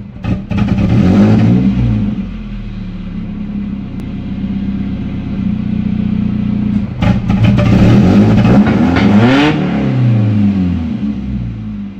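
A Nissan 240SX S13 engine, after a distributor change for an idle problem, revs up loudly several times close by, each run climbing and falling back toward a rumbling idle, with no talk.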